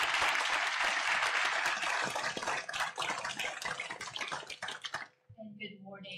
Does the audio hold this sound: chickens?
no